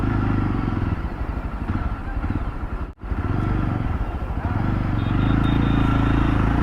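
Yezdi Roadster motorcycle engine pulling steadily under acceleration while riding, a dense continuous rumble with wind noise and a brief dip mid-ride, loud and close throughout.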